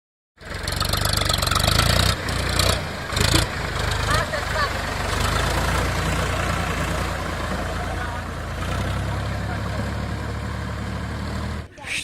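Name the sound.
tractor engine running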